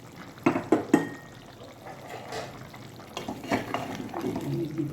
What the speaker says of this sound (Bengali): এবার আমি দিয়ে দেবো কিছু আলু।